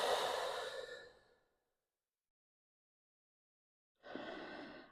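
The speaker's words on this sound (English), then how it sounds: "Breathing here." Slow breaths during a gentle morning yoga session: a long, soft exhale that fades out, a silent pause, then another breath rising near the end, close and alone.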